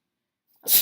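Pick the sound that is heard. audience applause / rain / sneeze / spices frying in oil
sneeze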